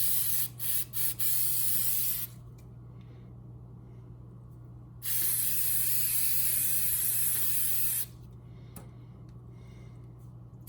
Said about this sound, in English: Make sure you shake the can and just spray it on pretty liberally.